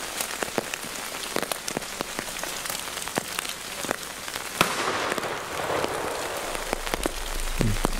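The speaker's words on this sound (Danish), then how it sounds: "her hvor regnen tager til i styrke" Heavy rain pours steadily at a forest edge during a retriever field-trial championship, a dense close hiss scattered with sharp drop impacts that grows slightly heavier partway through, with no voices.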